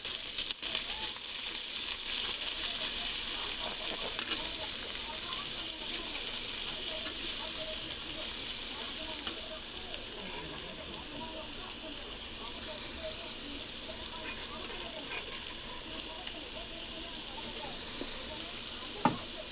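Batta shak greens sizzle steadily in a pan with onion and chili, a constant close hiss of frying that settles slightly softer partway through, with occasional faint stirring taps and no talking over it.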